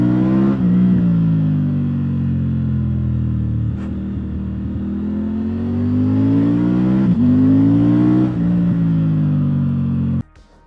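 Triumph inline three-cylinder T-plane motorcycle engine running, a continuous loud buzzing drone that rises and falls with throttle, with brief blips around the middle and a sudden cut near the end; no voices.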